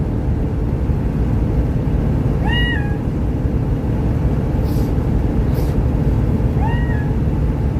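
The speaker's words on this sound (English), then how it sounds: "An Arctic fox sounds like this." A synthesized Arctic fox call from a phone assistant sounds as two short, high, rising yelps several seconds apart, heard inside a car over a constant loud road rumble.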